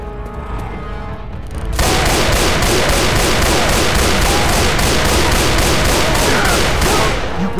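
Sustained rapid automatic gunfire in Left 4 Dead 2, a loud, dense, continuous volley that kicks in after a short lead-in and keeps pounding steadily to the end.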